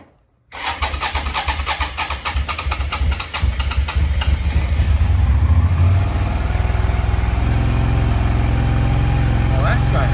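A 2000 Suzuki SV650 motorcycle engine cranks and fires after a brief silence, then runs loud and close, revving slightly before settling into a steady rumbling idle.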